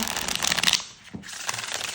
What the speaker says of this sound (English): Here's a riffle shuffle.